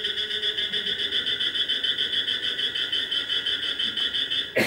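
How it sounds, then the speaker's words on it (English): A common cricket frog calls in a rapid, steady train of clicking, rattling notes close by, continuous throughout with no voices. "that's the common cricket frog."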